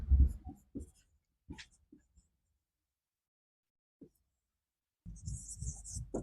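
A marker or chalk writing a sentence on a board during an English grammar class: short scratchy strokes in scattered bursts, separated by quiet pauses, ending in a denser run of strokes.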